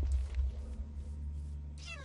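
A cat meows inside a hide-and-seek style video game, a faint, brief call over low background hum before a brighter burst of game sound near the end.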